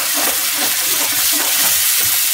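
A steady sizzling hiss of lemon pepper chicken and puree being mixed in a hot pan, continuous and close with no speech.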